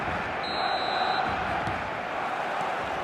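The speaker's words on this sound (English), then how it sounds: "This crowd doesn't do ordinary, and we should be in for something very special." A big stadium crowd in the eFootball 2026 video game roars as a continuous, distant wash of noise with faint cheers rising from it, under a commentator's voice.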